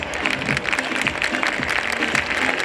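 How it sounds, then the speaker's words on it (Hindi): Audience at a school event clapping steadily, a dense, loud, even wash of applause from start to finish with no voices over it. "एक बार अपने अपने बच्चों के लिए ही जोरदार तालियां बजा दीजिए"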